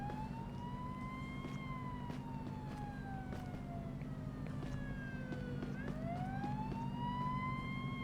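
A police siren wails in the video game Police Simulator: Patrol Officers, its rising and falling tone sweeping continuously over a steady low engine rumble, moderately distant and fairly quiet.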